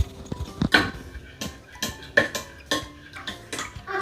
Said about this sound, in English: We're going to mix them until they dissolve.